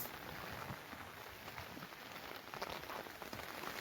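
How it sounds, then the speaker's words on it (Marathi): A steady wash of rain hissing continuously, fairly soft and distant, with no voices. "मरणाचा पाऊस"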